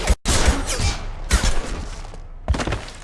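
Gunfire in Mass Effect 2 lands as several sharp, heavy thuds spaced across a few seconds, loud and close amid a busy combat soundscape.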